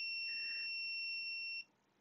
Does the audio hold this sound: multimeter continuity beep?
yes